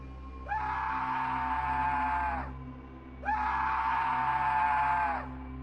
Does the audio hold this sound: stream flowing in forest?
no